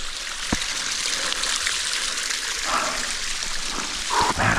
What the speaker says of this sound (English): Oh man, look at this, a little mountain creek.